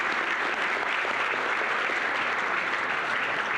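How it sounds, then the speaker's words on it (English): A crowd applauds steadily for a birthday tribute, dense clapping from many hands filling the room at an even, fairly loud level throughout. "I thought we'd all give him a round of applause"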